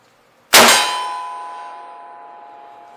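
A .30-30 rifle bullet strikes a bright circular steel gong target 40 yards away, giving a single sharp metallic clang that rings on and slowly fades over a couple of seconds.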